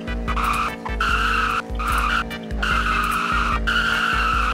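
Supercar in Roblox CDID roars loudly with repeated bursts of engine revving and tire skidding, alternating surges and short pauses, close and dominant.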